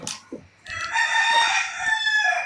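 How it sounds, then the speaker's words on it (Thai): A backyard rooster in Samut Prakan crows once, loud and fairly close, with a long drawn-out call after a few short clucks and small noises at the start. "โอ้เลี้ยงไก่ด้วยเหรอ"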